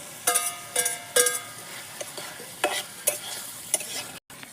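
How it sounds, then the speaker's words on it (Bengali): Shrimp and potatoes being stir-fried in spice paste over a wood-fired clay stove, with sharp metallic scrapes of a spatula against the pot at uneven intervals over a soft sizzle, no voices. "কষানো মশলার মধ্যে আমি চিংড়ি মাছ আর আলুগুলোকে দিয়ে কষিয়ে নেব"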